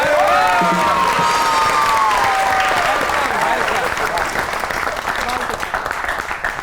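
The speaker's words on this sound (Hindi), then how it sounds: "आपकी बहुत सी तालियों में" Sustained audience applause fills the room, loud and steady throughout, with a few whoops and cheers rising early on.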